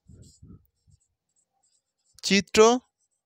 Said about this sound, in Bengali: দেখো লিখছি